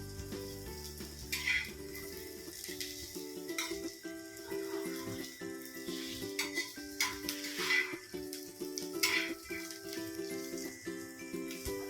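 Onions frying in a pan until reddish for Kolhapuri misal, a steady soft sizzle with stirring and clinks of a utensil against the pan, over faint background music.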